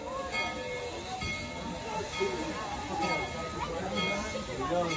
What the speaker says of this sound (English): All aboard, Casey Jones, let's ride